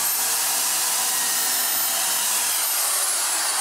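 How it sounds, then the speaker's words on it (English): A loud, steady high-pitched whine of a power drill boring a pocket hole with a Kreg jig, running continuously, harsh and close, without pause or voices. "take your drill bit here and run it down"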